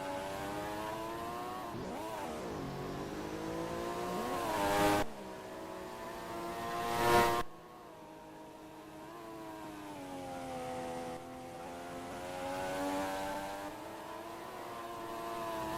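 Onboard a Ferrari racing car on a warm-up lap, loud engine harmonics sweeping up and down through gear changes and revs, continuous and close, with two brief bursts of broadband roar.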